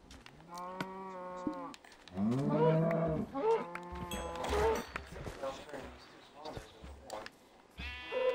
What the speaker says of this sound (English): Let me come over here and kill these cows.